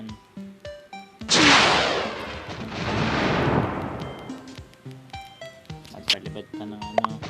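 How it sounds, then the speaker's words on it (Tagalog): A planet blowing up in the Planet Smash video game: a loud, sudden burst of explosive noise that rolls on for about two seconds before thinning out, framed by short game sound effects and chimes. "Pasabogin natin itong planeta. Tirahin hanggang sa sumabog."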